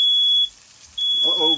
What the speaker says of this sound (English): We got a fire alarm going here.